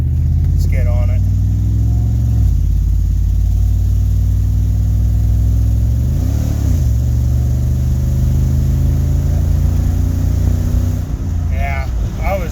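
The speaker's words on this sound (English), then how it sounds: "it was trying to get up to speed when I floored it" A Chevrolet Suburban's engine roars loud and steady as the driver floors it, the pitch climbing through several revving surges over a continuous drone.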